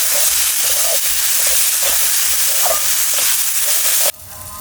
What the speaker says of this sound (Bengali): সুন্দর করে কষিয়ে নেব যতক্ষণ না টমেটোর কাঁচা গন্ধটা যাচ্ছে